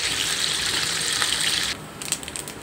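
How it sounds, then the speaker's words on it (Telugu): Dried small fish frying in a pan for a tamarind-leaf curry give off a steady, close hiss of sizzling oil that drops abruptly to a softer, crackling sizzle partway through. "ఎండు నెత్తళ్ళు బాగా వేయించుకోవాలి"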